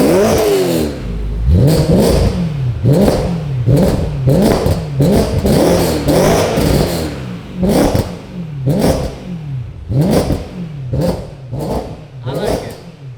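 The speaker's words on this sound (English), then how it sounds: "give it a rev." A BMW E92 revs again and again through a newly fitted aftermarket exhaust. The engine climbs and drops in quick, close, loud bursts with a deep tone, with a few faint voices in the background.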